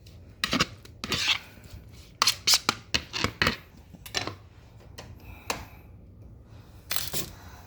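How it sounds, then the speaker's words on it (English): Green onions being mixed and stirred in a pan, heard as a series of close, sharp clacks and scrapes of a utensil against the cookware, arriving in irregular bursts with short pauses between them. "I'm just kind of mixing everything together"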